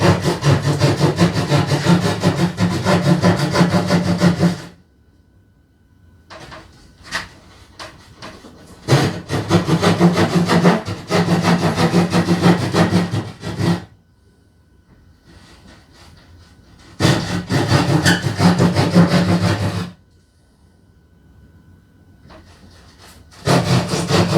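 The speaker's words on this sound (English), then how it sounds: "And then you're just going to take your saw, staying on your line." A hand saw cutting through drywall for a TV outlet box, with long runs of rapid, close back-and-forth rasping strokes broken by several short pauses and no talk.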